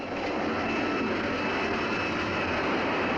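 US Navy jet fighter launched by catapult from the deck of USS Franklin D. Roosevelt, a loud, steady, roaring jet engine wash that fills the whole moment with no break and no voices.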